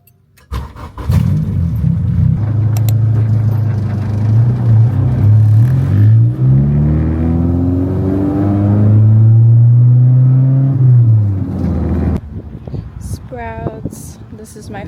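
A manual Honda Civic's engine cranks and fires, then revs and idles with a loud, close rumble whose pitch rises and falls for about ten seconds before dying away into a few faint clicks.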